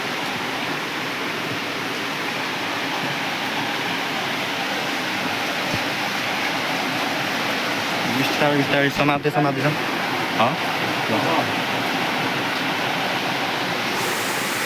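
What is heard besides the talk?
waterfall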